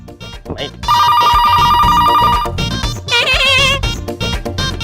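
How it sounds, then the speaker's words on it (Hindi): Telephone ringing in a comedic household scene, a loud electronic ringtone with sustained tonal bursts and warbling trills, mixed with background music and voices. "फोन क्यों नहीं उठाता कोई?"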